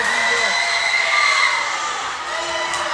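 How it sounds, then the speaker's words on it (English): A crowd at a Beeville versus Sinton high school volleyball match cheers and shouts in a loud, steady roar, with children's voices rising above the din. "Both crowds pumping up the noise"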